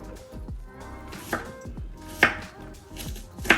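A knife chops half an onion into half-inch-thick wedges on a board, with a series of sharp, fairly close cuts at an uneven rhythm and a few louder knocks.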